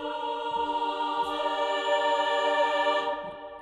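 Virtual vocal instrument Freyja sings sustained legato syllables that overlap and glide smoothly into one another, a steady rich choir-like tone holding for a few seconds before easing off, alone without talk.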